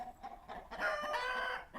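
A hen clucks in short bursts, then lets out a longer squawking cackle, fairly close and moderately loud.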